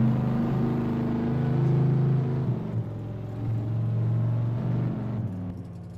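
A Chevrolet squarebody truck cruising in fourth gear, its engine giving a steady low drone that rises slightly and then settles, with no voices.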